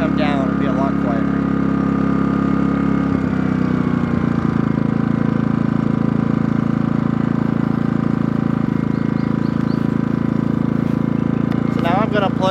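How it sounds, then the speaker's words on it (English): A Pulsar G2319N inverter generator hums steadily up close, its engine note dropping partway through as it switches from high RPM to economy mode, then settling into a lower, quieter idle while someone talks over it. "Watch me change it from high RPM mode to economy mode and listen to the idle come down."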